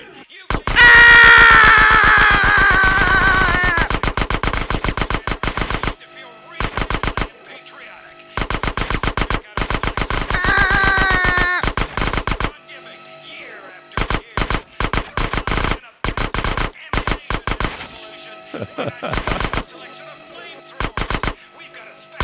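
Submachine gun fire in GTA: San Andreas, long rapid automatic bursts separated by brief gaps, loud and close, with screaming or yelling in the first few seconds.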